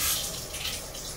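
Water from a tap runs steadily while a bathroom is cleaned, giving a close, even hiss and splash that goes on with no talking.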